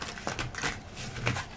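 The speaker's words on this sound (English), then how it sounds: "Couple more shuffles." Soft, rapid riffling of playing cards being shuffled, a couple of quick bursts close by with no voices.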